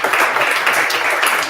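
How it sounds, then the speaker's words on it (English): An audience at a startup founders' stage event applauds, a brief burst of steady, fairly loud clapping filling the whole moment with no voices over it. "Give her a round of applause."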